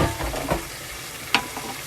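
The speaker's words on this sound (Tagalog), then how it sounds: "igisa natin" Vegetables for Ilocano pinakbet are sautéed and stirred in a pan. A soft sizzle runs under scraping stir strokes and a sharp utensil clink near the end.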